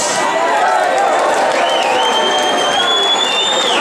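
Concert audience applauding and cheering in a loud, dense crowd wash that fills the whole stretch, with a sustained whistle or tone sliding upward midway and voices mixed into the noise.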